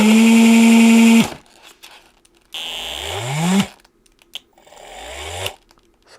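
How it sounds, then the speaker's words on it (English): A DC motor on a PWM speed controller runs in reverse, whining loudly, then cuts off. It restarts twice with a soft start, its pitch rising gradually each time before stopping abruptly, with faint clicks in the gaps. "So it has soft start, it doesn't jump immediately, it goes slowly."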